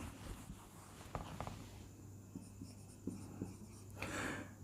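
Notes for a metric-space proof are written out by hand, with soft scratchy strokes and occasional taps close by, steady and unhurried beneath a low background hum.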